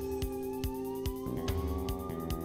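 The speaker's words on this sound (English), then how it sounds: "Interesting how this music has a police siren in it." A wailing police-style siren tone rises slowly inside looping video game music from a Duke Nukem 3D mod, mixed with a regular thumping beat at moderate volume.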